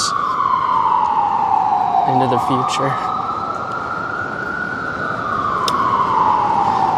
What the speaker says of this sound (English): There's ambulances like every minute driving up and down the streets.